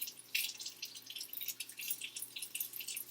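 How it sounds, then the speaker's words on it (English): Tap water runs and drips while makeup brushes are rinsed clean under a faucet, a faint, steady splashing trickle with small droplet spatters throughout, heard alone with no voices. "So the water's starting to run clear now."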